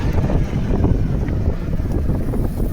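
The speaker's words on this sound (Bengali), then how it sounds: "এই যে চাঁদপুর থেকে দাঁড়াও লঞ্চ আসছে" A passenger launch from Chandpur approaches on the river near Muktarpur bridge, its low engine rumble heard under heavy, close wind buffeting against the microphone.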